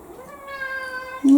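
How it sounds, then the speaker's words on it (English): A cat meows in a drawn-out, rising and falling cry close by, followed by a short, louder vocal burst at the end; no talking. "otherwise you're just going to keep meowing."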